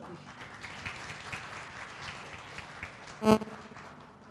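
Audience applause at a HealthFood motivational event, a steady mid-level patter of many hands clapping in a hall, with a brief tonal beep near the end and a voice faintly under it.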